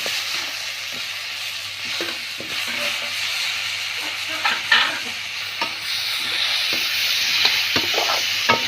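Star fruit pieces fry and sizzle in a pan while being stirred, a steady close hiss punctuated by scraping clicks of the spatula, with the sizzle swelling louder toward the end.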